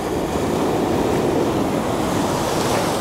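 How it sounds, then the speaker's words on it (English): Water rushes over rocks outdoors at a landscape location, a dense, continuous roar with wind-like hiss, steady and fairly loud for the whole stretch. "there is the water coming over the rocks"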